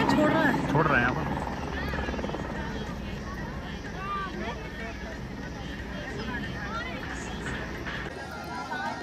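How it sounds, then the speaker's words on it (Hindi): A helicopter at Sanjhi Chhat helipad on the Vaishno Devi pilgrimage route gives a steady, throbbing rotor drone from nearby while someone talks and a crowd murmurs. "यहाँ से सांझी छत हेलीपैड पर हेलीकॉप्टर की लैंडिंग और हेलीकॉप्टर का टेक ऑफ बड़े ही आराम से देखा जा सकता है।"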